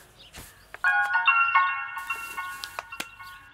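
A mobile phone ringtone plays, a clear repeating electronic melody of bright tones that follows a few soft knocks and clicks, moderately loud in a quiet room, with no one speaking.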